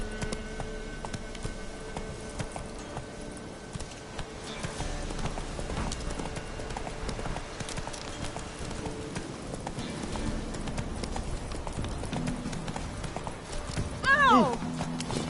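Horse hooves clip-clopping at a gallop in a PS4 game, a continuous rhythmic beat through the whole stretch with a brief neigh near the end, under a busy bed of game sound and some talk.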